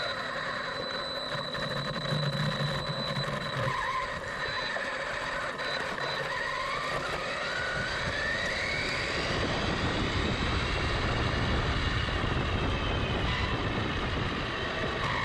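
An Arrma Typhon RC car on its first test run after a rebuild, a continuous whining motor with rising and falling pitch, growing rougher and louder in the second half.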